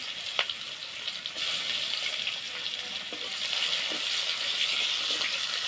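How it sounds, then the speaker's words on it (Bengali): Chopped onion goes into hot oil left over from frying fish and sizzles in a steady, bright hiss that jumps louder after about a second and keeps going with small crackles. "প্রথমে দিয়ে দেবো পেঁয়াজ কুচি"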